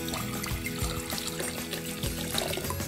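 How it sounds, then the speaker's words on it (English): Water pours into a flower vase, a continuous gurgling, splashing stream with bubbly fluctuations, fairly loud and close throughout, with no talking. "Let me add some water first."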